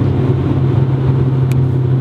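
Honda CRX with a turbocharged B-series engine and full exhaust, revving loud and close in a steady, buzzing drone that holds at one pitch from start to end.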